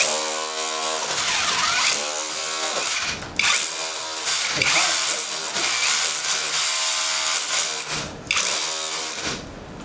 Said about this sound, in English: Half rotor hammer is much quicker than this chisel.